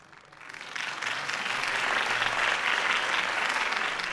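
Crowd applause after a campaign speech in the video game Batman: The Telltale Series swells from quiet into a steady, loud ovation lasting several seconds.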